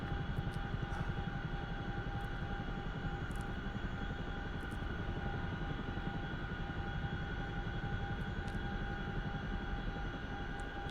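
A CH-47F Chinook tandem-rotor helicopter in flight in the DCS flight simulator: a steady, loud interior drone of engine and rotor with a constant whine, unchanging for the whole stretch.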